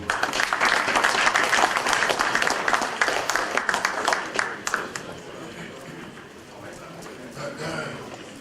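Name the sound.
audience applause at a reception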